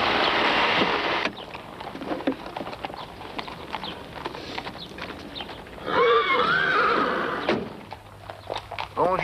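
Horses at a stable: hooves clip-clop and a horse whinnies clearly partway through, over a busy ambient background with a distant voice.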